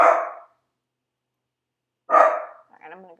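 Zelda the dog barks twice, close and loud, separated by a silent gap, with a person speaking briefly at the end.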